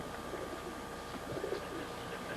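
English roller pigeons coo softly around the top of a loft, low murmuring calls repeating faintly over a steady outdoor background.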